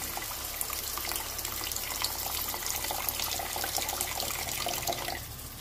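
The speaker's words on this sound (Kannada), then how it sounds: "ಹುಣಸೆ ನೀರು ಹಾಕ್ತಿದ್ದೀನಿ." Tamarind water pours steadily into a pan with a soft splashing trickle for several seconds, then tapers off, while making bisi bele bath.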